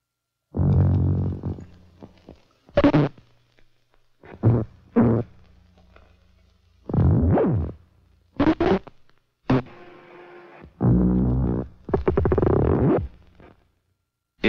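Hand-drawn optical soundtrack played back on a moviola, a small movie projector: a series of loud, abrupt synthetic tones and thumps in short irregular bursts separated by brief silences, with no voices.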